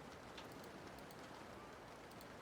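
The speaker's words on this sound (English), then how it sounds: "Let me get some rain ambiance going real fast." Steady rain ambiance pattering over a surface, dense and even throughout with scattered brighter drop hits, quiet and continuous with no voices.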